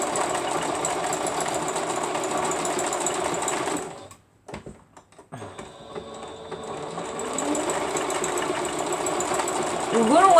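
A sewing machine stitches appliqué pieces onto fabric, running steadily and loud, stopping for about a second, then starting up again and continuing.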